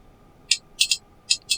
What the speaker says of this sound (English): There's the igniters, they're bloody loud.